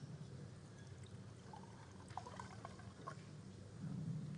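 Sparkling water being poured for guests at a sommelier championship service, a soft, faint trickling pour in a quiet room, with no talk.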